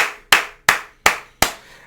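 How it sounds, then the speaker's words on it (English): Four sharp, loud hand claps ring out close by at an even, steady pace, each one a crisp snap with a quick decay and silence between. "round of applause."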